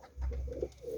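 A fantail pigeon gives one close, low, throaty coo, soft and rolling.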